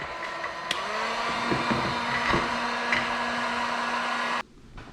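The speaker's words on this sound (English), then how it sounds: "throw the heat gun on it for a few minutes, let it warm everything up" A heat gun blows hot air onto Can-Am X3 clutch parts, giving a steady close whooshing drone with a faint motor whine and occasional light taps, then cutting off abruptly near the end.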